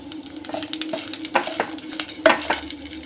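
Chana dal, curry leaves and Byadagi chilies fry in hot oil for a curd rice tempering, giving a moderate crackling sizzle broken by a few louder spoon-stirring scrapes, with no talking.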